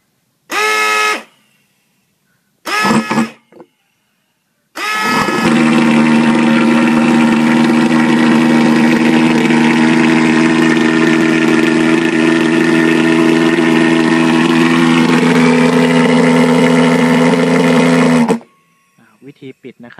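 A BEST FOGGER 150 fogging machine engine starts with a few short loud bursts, then settles into a loud, steady roaring drone for about thirteen seconds close by before cutting off abruptly.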